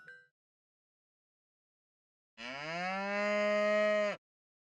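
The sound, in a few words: cow mooing in the video game Towelket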